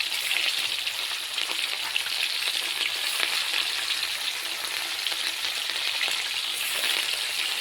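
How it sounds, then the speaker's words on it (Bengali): Prawns fry in hot oil in a wok, giving a dense, steady sizzle and crackle, close and continuous, with no talking. "মাছগুলো এখানে ভাজা হতে থাক"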